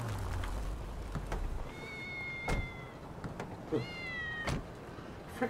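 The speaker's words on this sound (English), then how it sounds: "Freaking cats." Cats meowing in Grand Theft Auto V, two drawn-out tonal meows over a steady background hum, mixed with a few sharp clicks and thumps, fairly faint and without speech.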